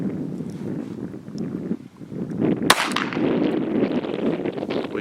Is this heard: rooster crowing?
no